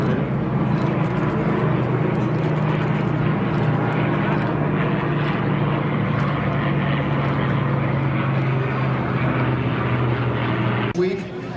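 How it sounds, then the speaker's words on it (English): A P-38 Lightning, a Corsair and a Mustang warplane pass overhead in formation at an airshow over Santa Maria, California, with a loud, steady propeller-engine roar that fades at the end, under an announcer's voice. "Type formation of the P-38, the Corsair, and the Mustang flying overhead."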